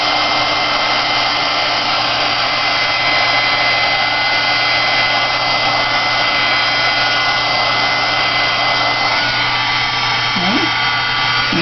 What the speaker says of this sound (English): Let me hit this with my dryer.